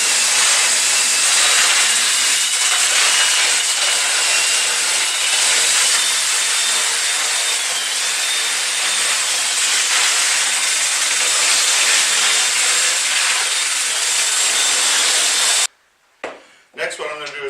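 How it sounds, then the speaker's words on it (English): An electric sander running continuously over the rough edges of a wooden floor for an inflatable Intex Excursion boat, a loud, steady hiss that cuts off near the end before brief handling noises. "I'm just going to take the rough edges off with the sander"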